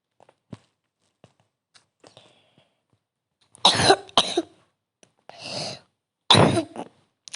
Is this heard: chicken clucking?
no